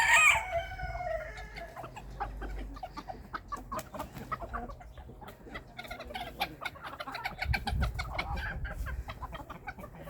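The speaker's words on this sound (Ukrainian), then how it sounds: "Самі великі кури, і самі добрі, і самі спокійні." Cochin chickens cluck steadily in a busy chorus, and a rooster crows at the start, all fairly close with no talking.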